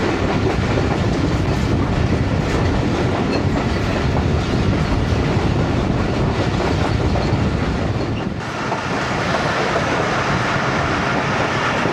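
The Ghouri Express 113UP passenger train pulls into Sangla Hill Junction on the Faisalabad to Lahore run, with a loud, continuous rumble and rhythmic clickety-clack of wheels on rails that eases slightly near the end.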